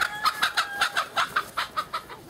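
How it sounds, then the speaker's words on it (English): Chickens in the Cook Islands clucking near a hibiscus tree, a rhythmic series of about a dozen close, evenly spaced clucks heard alone without talk. "There are his chickens"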